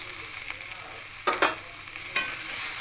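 Hilsa fish head and taro leaves are stirred in a frying pan over a steady low sizzle, with a few short scraping strokes of the spatula standing out near the middle and end.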